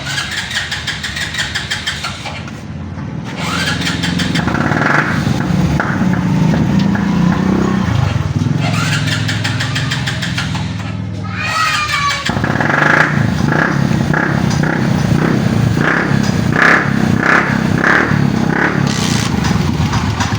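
A motorcycle engine cranks with a few short bursts, catches and then runs steadily at a loud, close idle with slight revving.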